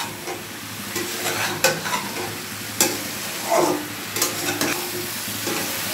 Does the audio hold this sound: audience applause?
no